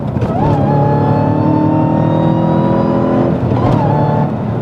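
A manual Dodge Challenger Hellcat downshifted from fourth to third roars loudly and steadily as it pulls hard, its engine tone holding a strong sustained drone with a brief pitch shift near the start and end.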